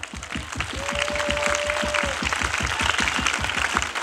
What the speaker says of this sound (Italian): adesso un forte applauso a tutti voi!